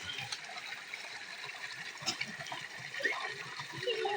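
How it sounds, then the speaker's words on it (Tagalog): Strong current of a cold mountain stream rushing steadily, a continuous broad wash of flowing water heard up close with a few brief splashy accents, no talk over it. "Ito ang lakas ng agos ng tubig."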